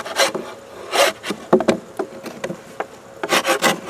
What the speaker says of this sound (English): We'll get the propolis off this.